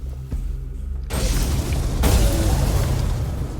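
A fireball spell in the Tainted Grail game bursts with a sudden loud whooshing boom, then a second blast rolls into a sustained roaring, crackling rumble that fills the short clip.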